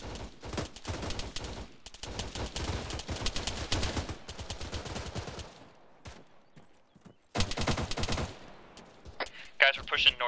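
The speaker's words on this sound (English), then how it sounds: "Now stay on the gun and keep shooting shit." Mounted machine gun fires in the Arma video game, with loud sustained bursts of rapid shots, a pause, then another burst, under occasional distant voices.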